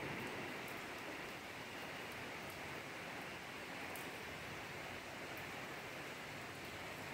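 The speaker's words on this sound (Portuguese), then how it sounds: "E a chuva caindo" Steady rain falls at night in the early hours after many dry days, a dense even hiss with occasional faint drips and no break for the whole stretch, heard alone.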